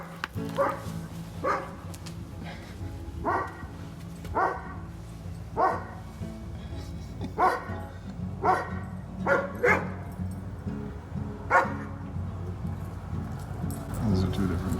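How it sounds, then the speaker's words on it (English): Two different dogs bark in separate short bursts at fairly regular intervals across the stretch, at moderate loudness and a little distant, with some talking in between. "Those are two different dogs."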